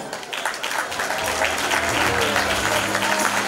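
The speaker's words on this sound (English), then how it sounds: "Keep the applause going." Dense, continuous applause fills the hall at a business awards ceremony, clapping loudly and steadily throughout as runners-up are announced.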